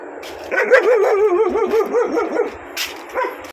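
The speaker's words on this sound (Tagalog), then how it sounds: "ito yung malaking aso na galit sa akin ano." A big dog barks and growls in a rapid, wavering run of deep woofs, close by, followed by a short pause and another bark.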